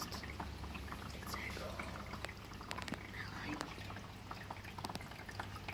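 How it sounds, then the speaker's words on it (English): A small pump in a Back to the Roots water garden starts to drip, giving faint, scattered drips and a soft trickle over a low, quiet hum. "It's coming up the pump. It's starting to drip there now."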